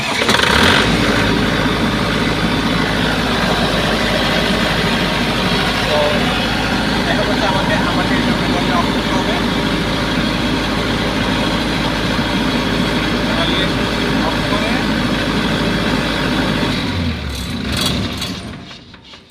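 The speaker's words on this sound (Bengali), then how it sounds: "এটা অটোতে নিলেই জেনারেটরটা স্টার্ট হয়ে যাবে" A generator with an overvoltage problem starting up automatically and running as a loud, steady drone close by, then cutting out near the end.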